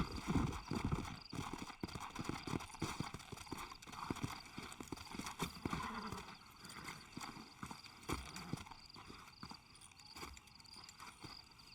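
Horses in Red Dead Redemption clip-clop along at a steady gait, hooves thudding in close rhythm, while a horse neighs and whinnies over the hoofbeats.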